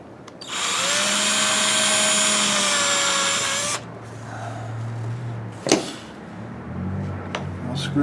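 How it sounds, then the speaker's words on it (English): A power drill with a 7/64 bit bores a pilot hole, a loud steady whine running for about three seconds before stopping, followed by quieter handling knocks and a sharp clack. "Drill a pilot hole."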